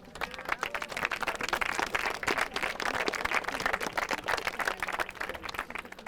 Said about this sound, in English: So I think we could give them a round of applause for that for a start.